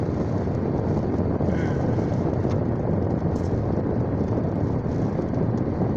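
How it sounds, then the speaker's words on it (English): A car driving to work, heard from inside as a steady, loud rush of wind noise and road rumble that never changes, with no pauses. "Driving to work again."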